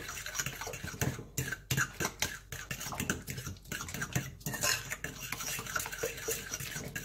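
Pancake batter being mixed in a bowl: a steady run of soft, wet scraping and stirring strokes, close and moderately loud, with no talking.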